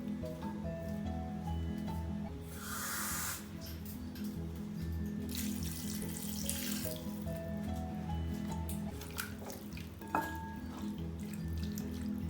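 Water pours steadily into a pot of raw mango and prawn curry, a soft continuous trickle with a couple of brief splashing bursts, quiet and close.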